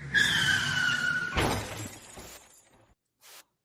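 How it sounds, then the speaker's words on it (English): A car crash sound effect: a squeal of skidding tyres runs into a loud impact and shattering glass, then debris rattles and fades, with one last small clatter. "Go with the car crash sound effect."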